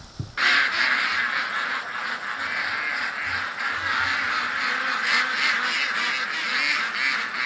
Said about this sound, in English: a lot of ducks in the background making noise